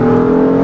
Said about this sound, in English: Some turbo noise there.